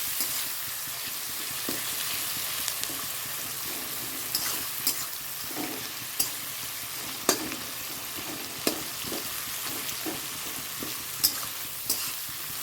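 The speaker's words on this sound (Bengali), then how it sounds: "আলুটা ভাজা হয়ে যাচ্ছে লাল লাল করে" Potato pieces and onion fry in oil in a pan, a steady close sizzle broken by periodic scrapes and knocks of a spoon stirring, with no talking.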